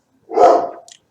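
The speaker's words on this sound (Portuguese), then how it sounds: "E meu cachorro segue latindo" A single close, loud bark from a pet dog in a home, with a small yip trailing right after it.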